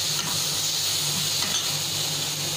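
Capsicum and carrot sautéing in a pan for wheat noodles, a steady close sizzle and hiss holding even throughout with faint stirring, no voices.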